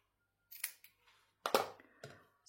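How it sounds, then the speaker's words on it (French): Scissors snipping through lace trim while making a decorated box, a few quick separate cuts with short pauses between them, close and fairly quiet with no talking. "Là, je vais couper."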